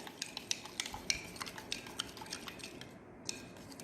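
A spoon stirs salt into a few spoonfuls of mineral water for a simple DNA isolation, giving quiet, quick clinks and scrapes against the container in an irregular rhythm, faint and close.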